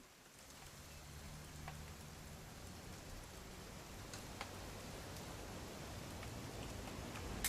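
Steady rain falls throughout in the video game What Remains of Edith Finch, a continuous even hiss of drops on surfaces with a few faint ticks, no talk.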